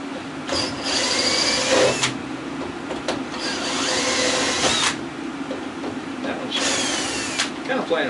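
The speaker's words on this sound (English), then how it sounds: "Hope that fan's not making too much background noise" An outdoor fan runs steadily in humid air while a washing machine is scrapped for copper and aluminum. Its constant whirring hum sits under intermittent louder clanks and scraping bursts from the work nearby.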